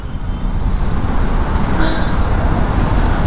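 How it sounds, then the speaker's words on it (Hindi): Heavy road traffic in Andheri, Mumbai, heard from a BMW G310 GS motorcycle: a steady low rumble of engines close by, with a brief hiss like an air brake midway. "अपरंपार ट्रैफिक है भाई"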